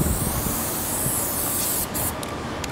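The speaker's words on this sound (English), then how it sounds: "Remember, this is spray paint. You can always adjust your spray." Spray paint can hissing in a steady, continuous spray for an airbrush-style cartoon painting, close and loud, with a brief break near the end before it resumes.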